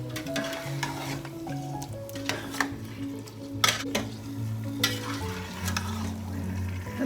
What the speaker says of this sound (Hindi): हल्का सा भून लेंगे इसको दही के साथ